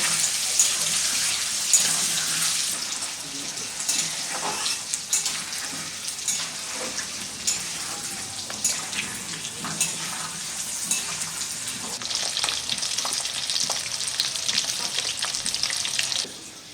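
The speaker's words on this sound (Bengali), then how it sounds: "আলুটা দিচ্ছি, ভাজা ভাজা হবে, দারুণ লাগবে খেতে।" Potatoes sizzle steadily in hot oil in a pan for a winter duck curry, a continuous close frying hiss with occasional stirring clinks and crackles throughout.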